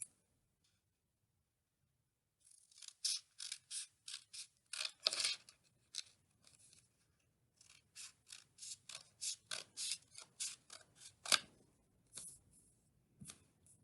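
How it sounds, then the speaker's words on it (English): Scissors snip through folded paper while shaping Easter daffodils, a quick run of crisp, close cuts in two bursts separated by a short pause, with a quiet lead-in and no talk. "if we fold in half, and then cut a really lovely ovally semicircle shape again"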